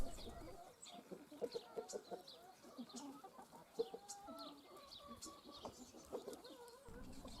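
Hens cluck and murmur steadily on a permaculture farm, several birds close together with short rising calls and scattered chirps, no talking.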